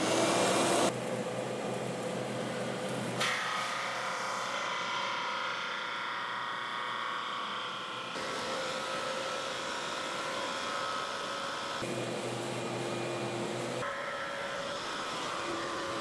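A 1938 drum sander runs with a 2.5-inch high-pressure dust collection hose on its 4-inch port, giving a continuous loud machine drone with airy suction hiss that shifts in tone at a few points; no speech.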